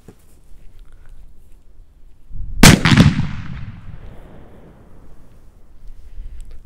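A Cobra 09 firecracker goes off in grass with one sharp, loud bang, followed by a fading rumble and crackle against a quiet outdoor background.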